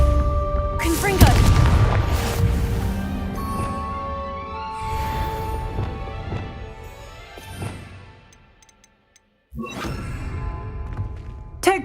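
Confringo spell cast at pumpkins in the Hogwarts Legacy video game, a loud booming blast with crashing debris near the start, then smaller thuds, a brief silence and a further burst, with game voices heard.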